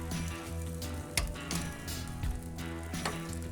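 Korean chicken wings sizzle steadily on a grill while being flipped, a constant close crackle broken by a few brief scraping clatters of turning.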